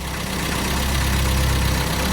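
A Mini Cooper engine runs steadily at part throttle, around 3,000 RPM, during fuel tuning, giving a continuous loud mid-low drone with a faint knocking texture and no breaks throughout.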